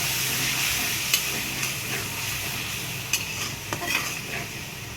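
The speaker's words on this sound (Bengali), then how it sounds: "আমি এই আদাটা আর জিরা বাটাটা ভালো করে ভাজে নিব" Ginger and cumin paste frying in a pan while being stirred, a close, steady hiss of sizzling with a few sharp scraping clinks of the spoon against the pan.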